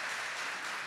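An audience at a church talk applauds in a dense, even wash of clapping that fills the short moment without speech.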